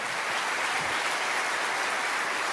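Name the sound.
audience applause in church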